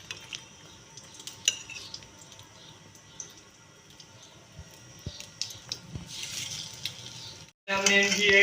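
Egg-dipped bread slices deep frying in oil for shahi tukray, a faint bubbling sizzle with light utensil clinks and taps, ending in a sudden louder burst of hot frying.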